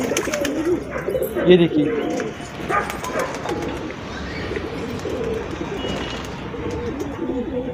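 Pigeons at a home coo in low, soft bursts in sunshine after rain, near and steady throughout, while someone talks over them.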